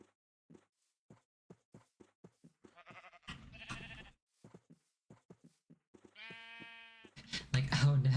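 Sheep bleat in the video game Minecraft: two clear nasal bleats over a steady run of soft in-game footsteps, then a louder burst of noise at the end.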